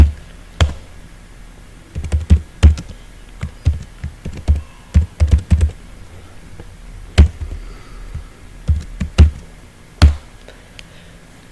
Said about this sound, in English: inside body I'm typing a sample code